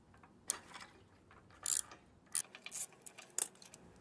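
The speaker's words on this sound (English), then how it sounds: "I'm using a 13/16 spark plug socket to remove the spark plug." A spark plug socket working a spark plug out of a Honda GX200 small engine, giving faint scattered metallic ratchet clicks and short bursts of clicking in a quiet space.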